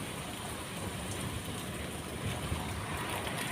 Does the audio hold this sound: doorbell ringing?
no